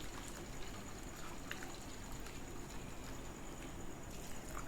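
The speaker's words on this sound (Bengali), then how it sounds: "এবার সঙ্গে সঙ্গেই ছানাটা আমি একটা সুতির কাপড়ের মধ্যে দিয়ে ছেঁকে নেব" Freshly curdled milk is strained through a cotton cloth to collect chhana, letting out a faint, continuous trickle and pour of whey running steadily through the fabric.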